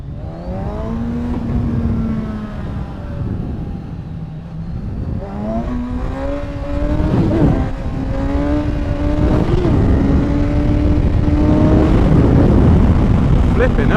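A Kawasaki 1000 motorcycle engine revs hard in several rising and falling surges, loud and close, its pitch sweeping upward as it accelerates past.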